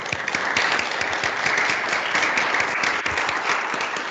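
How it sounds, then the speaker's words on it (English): Conference audience gives the panelists a sustained round of applause, dense, even clapping from a full room, continuous throughout with no talk. "Let's give our panelists a round of applause"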